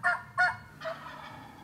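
A wild turkey gobbles during a spring hunt: two sharp, close gobbles in quick succession, then a fainter, drawn-out rattling call, heard alone against quiet outdoor background.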